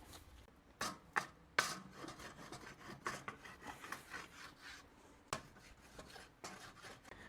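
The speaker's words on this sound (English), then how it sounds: "a nasty grill grate that needs scraping" A dirty grill grate in a smoker is scraped in a series of irregular rasping strokes, some sharper than others, fairly quiet and with no talk.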